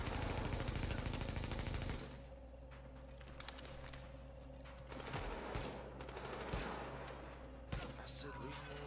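Automatic turret machine-gun fire in The Division video game, dense rapid bursts at first, then sparser sharp shots and thuds over a lower rumble, with speech at times.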